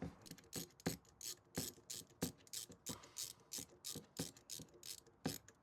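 Ratchet wrench loosening the oil drain bolt on a Honda CB550 motorcycle, a quick series of sharp clicking bursts in an irregular rhythm, close up, with no voices.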